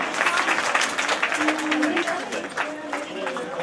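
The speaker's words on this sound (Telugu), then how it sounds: "ఒక చప్పట్లతో అభినందించారు అంతా కూడా" A crowd at a girls' school Mother's Day celebration claps in a dense, steady burst of applause, moderately loud and close throughout, with a voice briefly audible over it.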